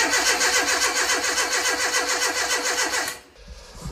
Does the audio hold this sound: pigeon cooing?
no